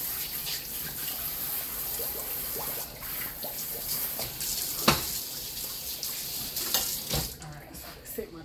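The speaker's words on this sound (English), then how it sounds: "Trying to get my sink rinsed out." A kitchen sink tap runs to rinse food out of the basin, a steady close splashing of water with a few clunks and brief voice sounds over it.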